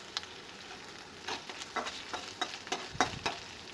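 Ginger garlic paste gets stirred in a pan for veg noodles, a soft sizzle under a run of irregular scraping and tapping strokes from a spoon, fairly quiet and close.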